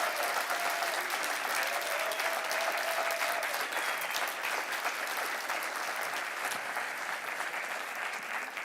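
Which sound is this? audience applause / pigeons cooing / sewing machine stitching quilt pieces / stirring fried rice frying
audience applause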